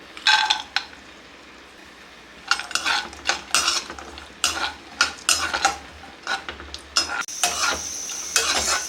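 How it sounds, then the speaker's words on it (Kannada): Raisins and cashews frying in ghee in a pan for moong dal kheer, with a spoon stirring in uneven bursts of scraping and metallic clinks over a faint sizzle; no one speaks. "ದ್ರಾಕ್ಷಿ ಗೋಡಂಬಿ ಫ್ರೈ ಮಾಡ್ಕೊಳ್ಳೋಣ. ತುಪ್ಪ ಹಾಕೋತಾ ಇದ್ದೀನಿ."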